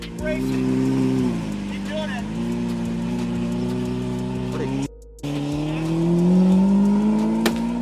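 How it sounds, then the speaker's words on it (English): A large engine revs loudly and steadily with rising and falling pitch, briefly cutting out before roaring back, with faint voices underneath. "The sound of a large engine can really annoy people."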